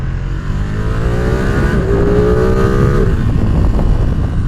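A Ducati motorcycle engine revs loudly and close by, its pitch climbing and holding through a sustained rising whine over a steady rumble, with no talking.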